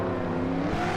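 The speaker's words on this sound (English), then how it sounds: "I hear another engine there" A car engine roars in a Hot Wheels racing game, one steady, close motor note rising slightly in pitch over about a second, loud and alone.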